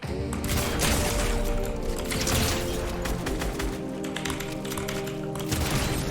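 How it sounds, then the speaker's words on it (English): A Maven-Auto shotgun fires in Fortnite, with rapid booming shots and mechanical clatter heard over steady game noise and no talking. "Let's use this shotgun and see which one's best."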